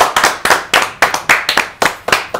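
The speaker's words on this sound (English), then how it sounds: "Please welcome with a round of applause, Debarl Inea." Audience clapping to welcome a speaker at a live leadership forum broadcast, a small group of hands beating in a fairly steady rhythm, close and loud, with no voices.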